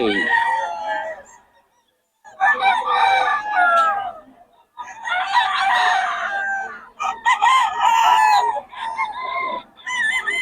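Roosters and fighting cocks at a poultry market in Bocaue crow loudly nearby in several long bursts, separated by short pauses, with chickens clucking in between.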